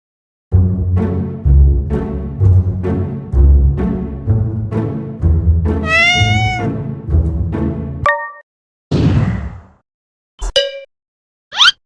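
A cat meows repeatedly, loud and close, a long series of drawn-out calls followed by a few shorter, higher mews separated by silence.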